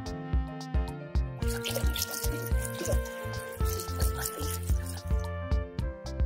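Water dripping and splashing in quick irregular bursts while a reindeer is washed, close and steady with tap-like flow throughout.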